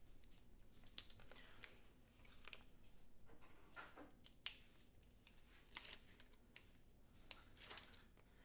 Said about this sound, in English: so we'll just cut it off with the scissors there